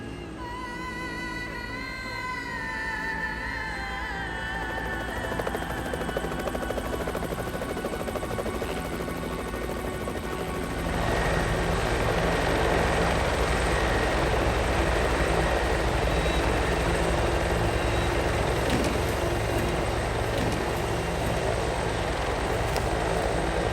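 A helicopter flies close over a wildfire in Andalusia, Spain, giving a steady, loud rotor and engine roar. The sound swells to a fuller, denser wash partway through, with no talking.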